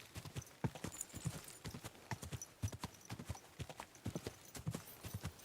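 A horse gallops in the medieval video game Kingdom Come Deliverance II, its hooves pounding in a fast, steady rhythm of close clip-clop beats throughout, fairly quiet in the mix.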